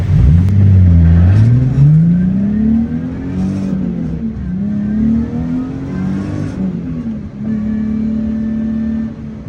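A Nissan 370Z drift car engine revs up close and loud, its pitch sweeping up and down in continuous surges as the car drives, with no talking.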